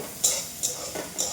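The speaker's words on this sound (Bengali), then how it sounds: "এই যে উচ্ছে আলুতে ভাজছি" Bitter gourd and potato pieces frying in a pan: three distinct spatula scrapes and stirs over a low, steady background sizzle, close by with no talking.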